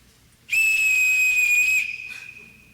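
A sharp, shrill whistle, blown to summon children in a stage production of The Sound of Music, sounds loud and steady for over a second before fading out, heard alone.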